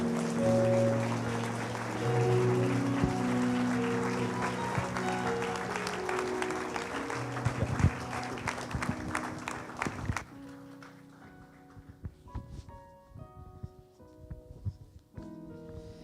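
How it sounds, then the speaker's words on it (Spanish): A crowd at a church service applauds loudly and continuously, the clapping thinning out toward the end as a few scattered claps linger alongside background music. "Le damos un aplauso al Señor Jesús."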